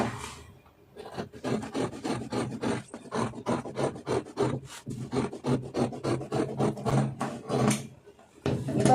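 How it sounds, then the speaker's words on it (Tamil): Scissors cut through layered blouse fabric, three blouses stacked together, in a fast, steady run of rasping snips repeated many times, close and fairly quiet. "கத்திரியில் கட் பண்ணுறதுக்கும் உங்களுக்கு ரொம்ப ஈஸியாக இருக்கும்"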